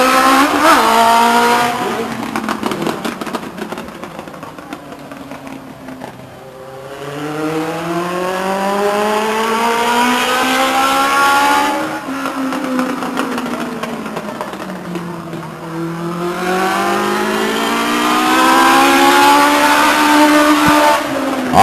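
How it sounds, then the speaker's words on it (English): Legends race cars lap Stockton 99 Speedway, engines swelling loudly as they pass close by, then fading and returning again in long sweeping waves of revving and downshifts, with faint tire noise. "On the track in the 13 car from Sassoon City, that's Skip Brown."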